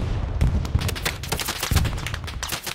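Rapid gunfire in the World War II shooter Hell Let Loose, a dense crackle of overlapping shots and thuds at mid distance, steady for about three seconds with no talk over it.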